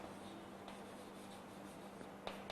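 Pen or chalk strokes write out the coefficients of a polynomial during a class 9 maths lesson, faint scratching with a couple of sharper taps over a quiet, steady room hum.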